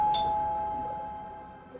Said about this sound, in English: I like the doorbell.